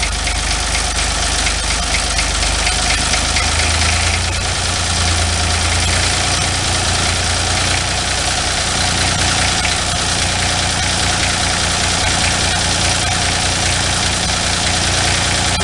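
A Renault D30 tractor with a rebuilt engine idles steadily and loudly up close, a continuous low rumble with a faint knocking pulse throughout and no talk.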